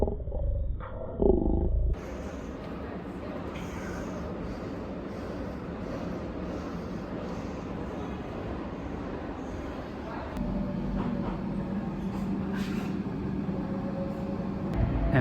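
DLR train in London heading toward Bank, a steady rumbling roar of the carriage in motion. Wheel and rail noise hold at a constant level, with a brief louder noise at the start.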